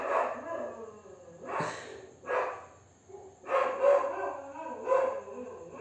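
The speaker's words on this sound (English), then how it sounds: "Dog's going crazy, man." A dog barks in a few loud, close bursts spaced across several seconds, with breathy gasps between them and a faint steady hum underneath.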